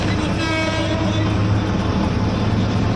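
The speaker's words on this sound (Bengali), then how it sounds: "মনে হয় ট্রেন যাচ্ছে, একটা শব্দ শোনা গেল।" Train passing near a road, heard as a loud continuous rumble with a drawn-out horn toot at the start, all under steady traffic-like noise.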